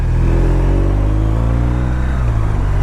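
A BMW motorcycle engine rumbles up close as the rider blips the throttle, the revs rising in short surges over a steady low drone, with no talking.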